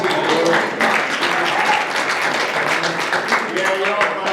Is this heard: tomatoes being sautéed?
no